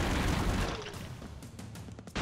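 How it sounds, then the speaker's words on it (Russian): A grenade blast in the side-scrolling action game Broforce: a loud burst of broadband noise that rumbles and fades over a couple of seconds, then gives way to a few sharp pops and crackles. "Ой, граната."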